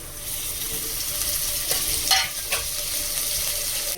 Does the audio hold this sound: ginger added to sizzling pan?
yes